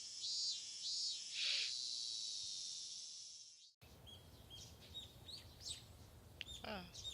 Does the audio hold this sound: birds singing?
yes